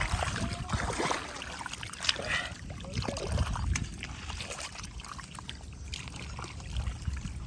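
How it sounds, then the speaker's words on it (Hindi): Water trickles and splashes through an irrigation channel in a field, a soft, continuous flow with small gurgles, heard alone at close range. "ये देखें यहाँ से पानी गुजर रहा है"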